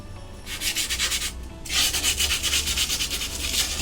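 Sandpaper scrubs a wooden speaker box in quick back-and-forth strokes, a brief pause splitting two runs of rhythmic, close rasping.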